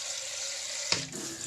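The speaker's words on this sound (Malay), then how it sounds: "So, masukkan air lagi." Water pours from a tap into a cooking pot while young bananas simmer in a chili coconut-milk curry. A steady rush runs throughout, then a brief splash and a change in the flow near the end. No one speaks.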